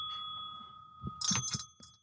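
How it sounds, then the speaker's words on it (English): A small metal bell is being handled, giving a ringing tone that sustains at first, then a few quick jangling taps and rattles close by, with no talk. "I'm trying to undo the bell."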